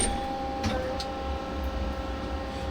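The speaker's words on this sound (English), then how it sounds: "So it pushes straight through the spindle, like you see." An Edge Technologies bar feeder on a CNC lathe pushes bar stock through the spindle, giving a steady mechanical hum with a faint high whine and a few soft clicks.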